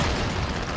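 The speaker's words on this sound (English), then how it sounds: "I questioned that explosion, like what is it and why is it not moving?" A video game explosion lands as one dense, loud, low-heavy boom that fills the short moment and carries no speech.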